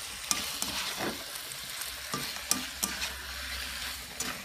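Shrimp tossed in hot oil in a large wok-style pan, stirred with repeated scraping strokes over a continuous sizzle, close and moderately loud, no talking.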